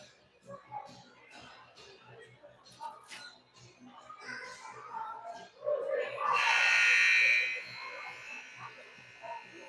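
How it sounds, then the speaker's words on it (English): An ice hockey rink's game clock buzzer sounds at a youth peewee game, a loud harsh tone lasting about two seconds, following a stretch of people talking over the arena's background noise. "The buzzer."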